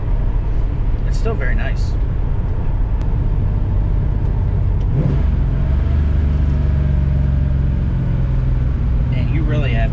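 A 1965 restomod Ford Mustang cruises at about 40 mph, its steady low engine and road rumble running continuously beneath someone talking close by.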